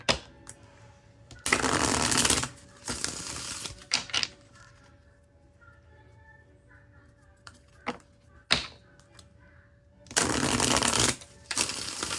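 Tarot cards are shuffled in three loud, close riffling bursts separated by quiet pauses with faint taps and handling noises.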